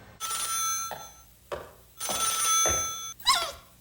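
Telephone ringing in a TV commercial, three long bright electronic rings separated by short pauses, then a brief warbling tone at the end, with no talking.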